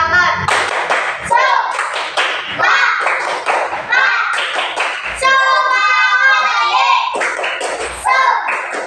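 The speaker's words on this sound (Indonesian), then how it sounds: "mari kita tepuk semangat bersama-sama" Several children chant loudly while clapping their hands together in a steady rhythm in a classroom, with sharp claps punctuating the group voices throughout.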